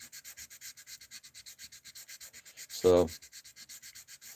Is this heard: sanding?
yes